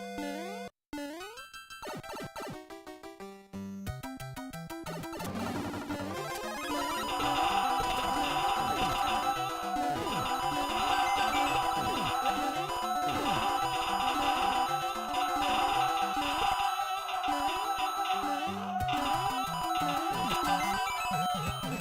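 Dense cacophony of Super Mario Maker 2 sound effects: jingles, chimes, squeaks and game noises piling up and overlapping into a continuous loud electronic jumble, sparse at first and then packed for the rest.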